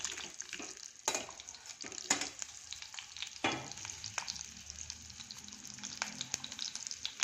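Onion, dried red chilli and garlic fry in hot oil in a pan with curry leaves, a steady close sizzle broken by several sharp scraping stirs.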